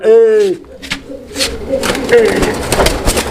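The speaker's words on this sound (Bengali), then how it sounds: "ওরে ভাই দেখছেন কি একটা লাভ মারছে কবুতরটা" An Indian paper pigeon, a male courting, coos softly nearby while someone talks over it.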